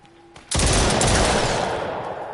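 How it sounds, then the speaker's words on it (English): Rapid automatic gunfire from the PSVR game The Brookhaven Experiment in survival mode, a loud sustained burst that starts abruptly after a brief quiet lead-in and rattles on without pause. "and then I want to shoot him a lot"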